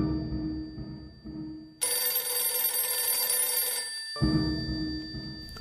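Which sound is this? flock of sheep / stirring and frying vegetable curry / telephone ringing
telephone ringing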